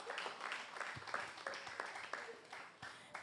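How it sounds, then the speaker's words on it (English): A small audience at a panel session gives faint, sparse applause, with scattered individual claps heard at a distance. "A round of applause for him, please."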